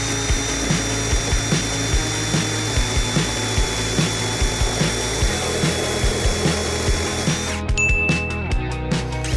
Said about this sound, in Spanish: Lubrico la cadena y primer corte para calentar.